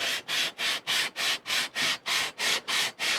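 Kohler engine block being resurfaced by hand, about ten even back-and-forth abrasive rubbing strokes in a steady rhythm, close and moderately soft, with no talking.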